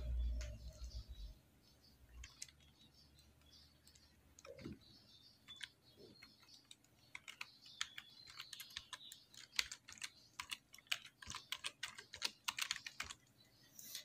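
A password is typed on a computer keyboard in bursts of quiet, close key clicks, sparse at first and then denser and quicker, with a soft thump at the start.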